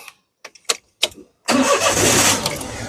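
A 2013 Daihatsu Xenia 1.0 with manual transmission cranks over in several short bursts before the engine catches and settles into a steady, loud idle close by.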